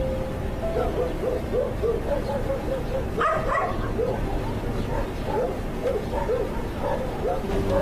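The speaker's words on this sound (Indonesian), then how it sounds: "berhenti seketika di saat beberapa ekor anjing menggonggong ke arahnya" Several dogs bark and yelp at night outside a house, a continuous overlapping chorus of howling and yipping with a dense, hissing background.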